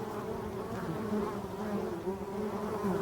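Black honeybees swarm around a hive in a forest, making a continuous, dense, moderately close buzz with a slight waver in pitch and no talking.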